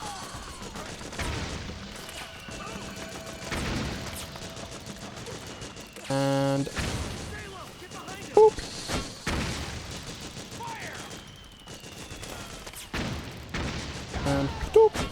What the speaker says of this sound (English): look, a mortar platform. We didn't get to use the one that we saw last chapter, so let's use this one.